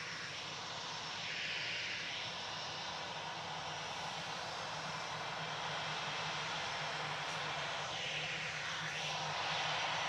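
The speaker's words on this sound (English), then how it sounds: "Touching down from Punta Cana now." An airliner touching down at Manchester Airport after a flight from Punta Cana, heard as a steady, fairly faint jet roar that holds evenly throughout with a slight swell toward the end, with no talking.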